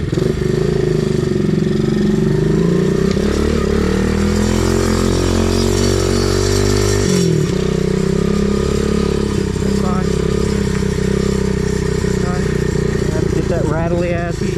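A Kawasaki KLX110 dirt bike engine runs loud and close throughout, rising in a sustained rev, dropping sharply, then settling into a rough, rattly idle with small throttle blips, while someone talks over it.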